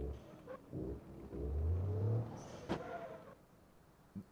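A video game car engine revs up, swelling to a throaty peak before easing back down, with the low rumble carrying on afterward.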